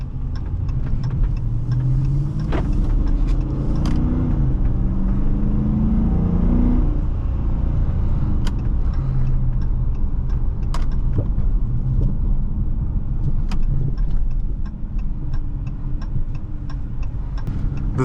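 A 2019 Dodge Charger Police 5.7 AWD drives steadily, its V8 engine and road noise droning loudly and continuously from inside the cabin, with faint ticking clicks scattered throughout.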